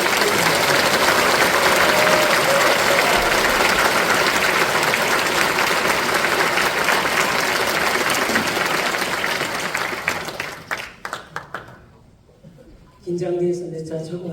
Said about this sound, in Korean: 배유성 담임 목사님께서 나오실 때 뜨거운 박수로 맞아주시겠습니다